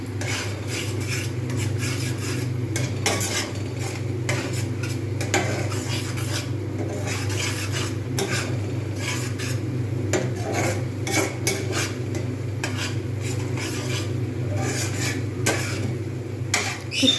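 Green peas are stirred dry in a frying pan, a continuous close scraping and rubbing of a spatula against metal with a low sizzle beneath.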